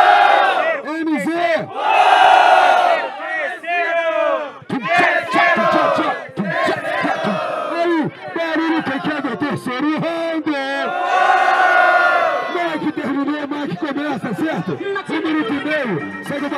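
A crowd at the final of a rap battle cheers and shouts loudly and continuously, with many voices chanting and yelling together in a dense, rising roar close to the microphone.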